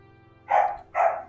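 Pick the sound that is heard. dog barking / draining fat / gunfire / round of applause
dog barking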